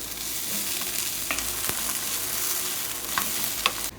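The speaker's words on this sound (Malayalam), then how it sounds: "ഇനി നമുക്കിത് ഇളക്കി കൊടുക്കാം" A prawn roast masala with curry leaves and browned onions is stirred in a hot pan, giving a steady soft sizzle broken by occasional scraping clicks of the spoon.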